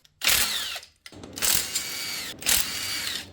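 Impact gun spinning off 14 mm bolts from a Honda Grom motorcycle engine: three loud, close bursts of rapid rattling hammering with a whining pitch, separated by short pauses, no talking.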